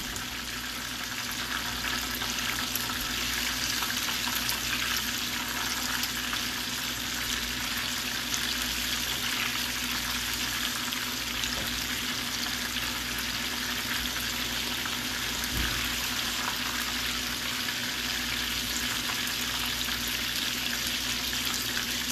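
Chicken fries in a wok over moderate heat, giving a steady, dense sizzle and crackle that holds evenly throughout, close and fairly loud with no talking.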